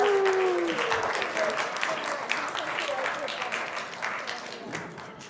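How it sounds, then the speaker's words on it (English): A congregation applauds a second grade class at Shabbat services, a steady patter of clapping with a sung or spoken voice over it near the start. "Round of applause for this beautiful class."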